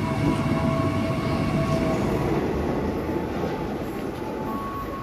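An electric commuter train at Solo Jebres station in Indonesia rumbles steadily on the rails with a continuous low roar and faint squeal, close and fairly constant.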